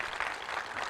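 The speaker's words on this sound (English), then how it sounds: "Give them a round of applause, they're amazing." Audience applause greets the Foley crew at a live stage performance of a radio play, a steady wash of clapping from a crowd, moderately loud and continuous for the whole second with no talk over it.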